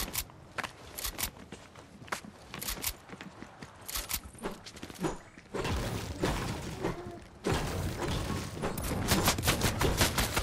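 Fortnite video game gunfire rattles in scattered bursts and volleys aimed at the player, with sharp cracks and impact clatter growing denser and louder toward the end.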